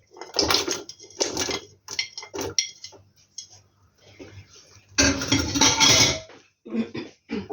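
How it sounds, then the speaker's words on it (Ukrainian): A long stirrer works through a pot of lecho with tomato, peppers, garlic, sugar and salt, making loud, close scraping and sloshing strokes in several irregular bursts separated by quieter gaps. "Гарненько перемішую своє, своїм таким класним девайсом, такою от класною мішалкою довгою"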